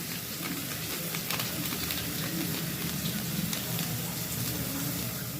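Masala with coriander powder fries and bubbles in oil in a pan for a cabbage stir-fry, a steady close sizzle with soft crackles and popping throughout, no voices.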